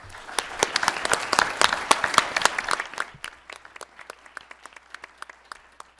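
An audience at the Southeast Economic Summit breaks into dense, lively clapping for a few seconds, then it tapers into a sparse patter of scattered claps that fade toward quiet.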